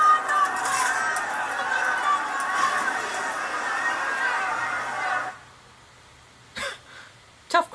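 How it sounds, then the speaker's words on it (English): A crowd jeers and boos a teenage prince in The Crown, a dense, loud wall of voices lasting about five seconds. It then cuts off abruptly to near silence broken by a couple of brief noises. "he's literally being jeered at and booed because he's part of the royal family"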